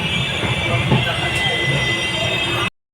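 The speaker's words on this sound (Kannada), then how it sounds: "ಮಡ್ಗಾವ್ನಿಗೆ ಹೋಗೋ ಟ್ರೈನ್ ಅದು ಮಡ್ಗಾವ್ನಿಗೆ ಹೋಗೋ ಟ್ರೈನ್" A passenger train bound for Madgaon rumbles past nearby in Ratnagiri with a steady, dense roar and rattling, a faint metallic squeal rising above it, continuous until it cuts off abruptly.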